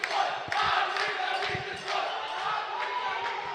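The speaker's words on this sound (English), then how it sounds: "Little student body cheering by the Dakota Lancers" A student body cheers for the Dakota Lancers at a varsity boys championship basketball game in a gym, a sustained crowd roar with shouts rising over it and faint thuds underneath.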